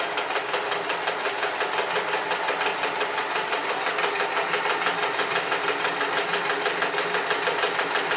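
A Sears Kenmore 158 series sewing machine running a straight stitch at its longest stitch length, a steady loud mechanical whir with a fast even rhythmic clatter that continues unbroken throughout, heard up close and alone.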